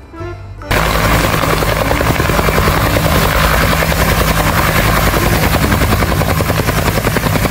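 A toy helicopter, among children's toy vehicles, starts up with a sudden loud, continuous whirring rotor and buzzing rattle that holds steady and close for several seconds.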